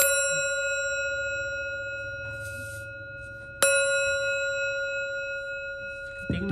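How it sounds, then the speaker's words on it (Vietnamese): A small Japanese ceramic bell, about 4.5 high and 8 across, is struck twice, each strike giving a bright, ringing tone that sustains and slowly decays, with a third light tap near the end; no talking. "Chuông này cái tiếng rất là vang các chị"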